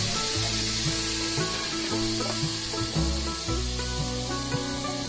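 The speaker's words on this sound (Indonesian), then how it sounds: "cara menggoreng belut biar nggak meledak" Eels frying in hot oil in a pan give a loud, constant sizzling hiss with scattered pops and crackles, close up and without voices.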